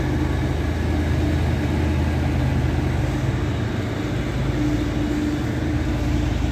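Steady low rumble of two trains pulling away at the same time near Salussola, Italy, a continuous engine drone with rail noise, loud and close throughout.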